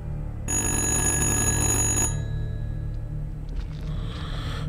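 An old telephone rings in the horror game Little Hope. A shrill, metallic electric bell rattles for about a second and a half, then stops, leaving a low rumbling ambience with faint clicks.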